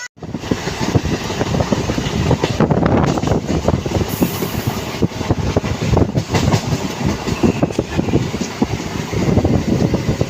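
Steady rumble and rattling clatter of a local train in motion, heard from inside a nearly empty carriage, continuous and fairly loud throughout with rhythmic wheel clicks and no talking.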